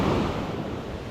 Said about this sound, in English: And those waves are going over that sandbar